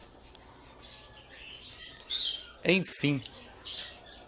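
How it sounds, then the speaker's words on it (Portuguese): Masked lovebirds (Agapornis personata) give several short, shrill squawks and chirps near the middle and end, over a brief spoken word and low background noise. "comprei esse dois agapornis personata aí, amei a cor deles e vou tentar formar casal aí"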